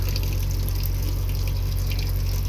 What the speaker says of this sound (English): Hot water heater should be filling up.